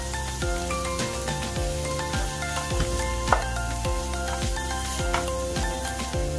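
Grated carrots and grated green chillies sautéing in a pan for a Sri Lankan egg string hopper kottu, a constant close sizzle and crackle with repeated stirring and scraping pulses.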